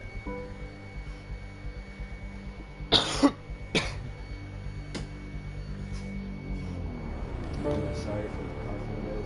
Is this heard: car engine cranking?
no